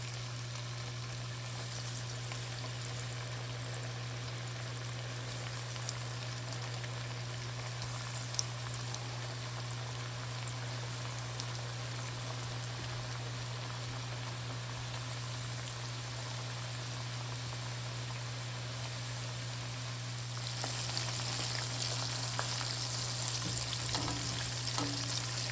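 Beef frying in vegetable oil in a pan, a steady soft sizzle and crackle that continues evenly, growing slightly louder near the end, with no talking.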